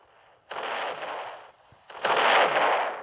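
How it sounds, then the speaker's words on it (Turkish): Two explosions go off in the Roblox video game, each a loud, broad blast that holds for about a second, the second one stronger, with a short quiet gap between them. "Bir anda patlıyor böyle hani."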